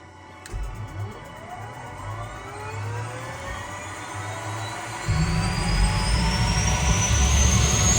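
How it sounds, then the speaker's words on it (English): Aircraft engine rising as it spins up, with a sweeping whine climbing steadily and a low rumble growing louder and heavier partway through, close and continuous. "We're gonna go head back in the chopper though."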